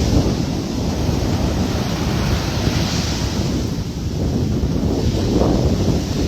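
Ocean waves wash steadily onto a beach, a continuous loud roar of surf mixed with gusty wind buffeting the microphone, with no voices.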